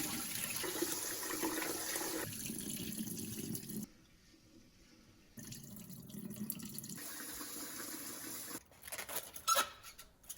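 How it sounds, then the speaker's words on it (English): Sweet rice for huangjiu being washed and rinsed by hand in water, with steady running and sloshing water broken by a brief quiet pause midway, then splashing and draining near the end. "wash that gently for 15 minutes, rinsing and draining repeatedly"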